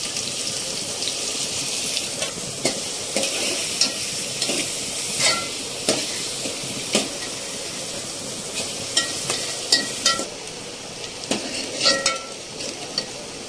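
Two large chopped onions frying with curry leaves for Mangalore-style chicken sukka, a steady sizzle with repeated scraping stirs of a spoon against the pan, close and without talk.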